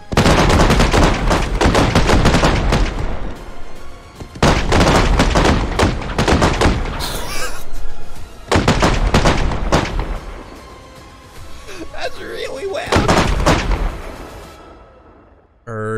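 Dense, loud barrage of booming and crackling blasts in repeated waves as fireworks chain-explode in the game Fireworks Mania, with brief lulls between bursts.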